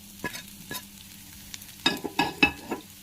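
Potatoes seasoned with salt and turmeric sizzle in a pan, quiet at first, then a cluster of loud spatula scrapes and stirs toward the end.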